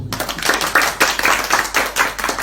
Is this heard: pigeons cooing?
no